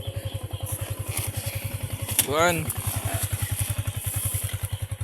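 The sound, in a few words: motorcycle engine running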